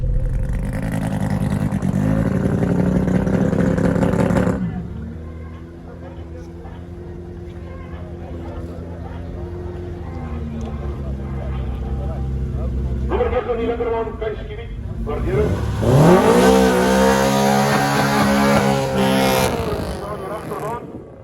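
A Honda Civic with a B20 VTEC engine on a race pass, its engine loud and revving hard through rising gear pulls with shifts between, while talk carries over the engine noise throughout.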